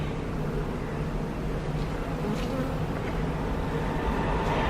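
Bees drone around a small beehive started from a swarm, a dense, steady buzz close by with occasional louder individual bees passing near, and no voices.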